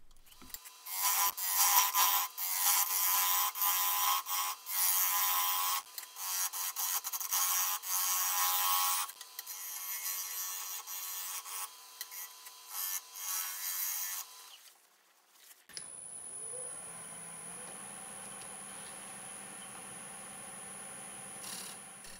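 Aspen wood vessel turned on a lathe with a half-inch bowl gouge, giving a loud, steady scraping cut that runs for about fifteen seconds before stopping and giving way to a quieter, lower hum.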